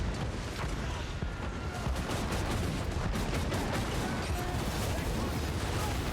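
Distant battle din from Total War: Warhammer 3, a steady wash of massed gunfire and anti-aircraft cannon with scattered sharper bursts, fairly quiet and continuous, with a voice faintly present in the mix.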